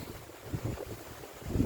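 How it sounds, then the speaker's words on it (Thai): Strong wind blows over a rice field, a low, gusty buffeting rumble that is faint and steady and swells slightly toward the end. "บรรยากาศวันนี้ ลมค่อนข้างจะแรงมากนะครับ"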